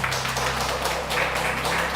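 A church congregation claps together during a Sunday worship service, dense steady applause from a large room filling the whole stretch at even loudness.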